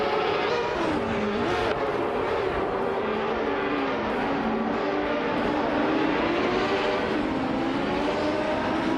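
1995 IndyCar race cars, including a Reynard 95, in a racing video game, their engines droning loudly and steadily with shifting pitch as the cars run together, a constant close racing roar without talk.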